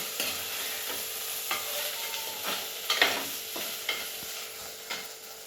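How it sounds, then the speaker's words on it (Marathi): Vegetables sautéed with ginger-garlic paste and curry leaves, a soft steady sizzle broken by periodic scrapes and stirring strokes against the pan, quiet and close with no talking. "आलं लसूण पेस्ट टाकून घ्यायची आणि परत एकदा ह्या सगळ्या भाज्या चांगल्या परतून घ्यायच्या"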